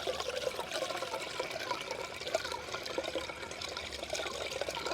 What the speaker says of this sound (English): you would definitely have some good water noises